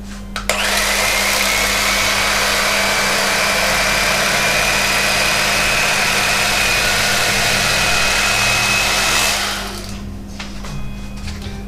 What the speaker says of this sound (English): What I found is the cheapest and easiest is just a basic electric kitchen knife. It goes through foam real easy